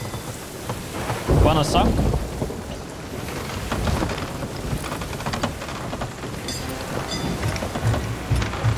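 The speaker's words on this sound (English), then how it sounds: "it's just a storm" A stormy sea in the Sea of Thieves video game, with heavy rain pouring steadily and a loud rumble of thunder near the start. A voice speaks briefly over the storm.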